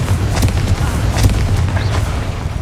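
Confringo fire spell blasts in the video game Hogwarts Legacy: loud, booming explosions with a heavy low rumble, rolling continuously in battle with sharp crackling bursts on top.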